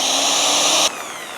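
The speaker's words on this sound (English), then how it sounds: "this is a 150 watt drill that it's running" A 150 watt electric drill runs at a steady high-pitched whine, loud and close, then stops or drops to a lower hum near the end.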